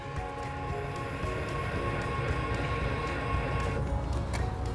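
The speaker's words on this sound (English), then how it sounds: "You can hear them as they go down when the boat's not running." Twin boat outdrives on a Weedoo aquatic weed harvester are lowered into the water with the engine off, giving a steady, close mechanical hum with a droning whine that holds evenly throughout.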